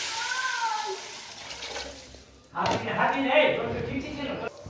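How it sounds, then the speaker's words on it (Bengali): Water is poured from a container into a hot pan of fried mung and masoor dal, a sudden loud gushing splash that follows a stretch of quiet kitchen background. "আমি জল দিয়ে দিচ্ছি"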